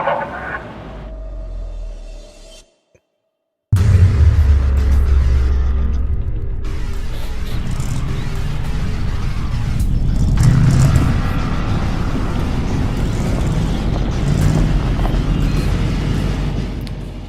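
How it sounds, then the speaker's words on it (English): Loud, steady low rumble of a big truck engine close by, droning continuously after a brief dropout near the start, with wind-like broadband noise over it. "it's a bit of a false multiplier ad with this big truck noise there"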